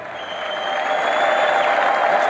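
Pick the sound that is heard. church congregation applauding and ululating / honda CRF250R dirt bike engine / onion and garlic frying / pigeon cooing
church congregation applauding and ululating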